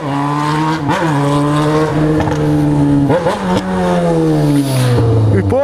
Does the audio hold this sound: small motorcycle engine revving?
yes